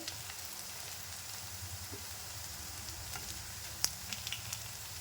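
Fish pakoras fry to golden in hot oil, giving a steady, quiet bubbling sizzle close by, with a few sharp pops and clicks near the end and no talk.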